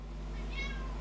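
A cat gives a short, faint meow over a steady low electrical hum, the single rising-and-falling cry heard at a distance with no talking.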